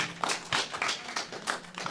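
An audience claps lightly at a live telethon comedy set, a thin, uneven patter of hands that sounds fairly distant and quiet.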